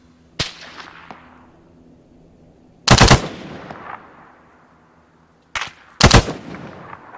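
Bursts of automatic gunfire in Arma 3, loud and close, arriving in four separate volleys with short quiet gaps and echoing tails between them.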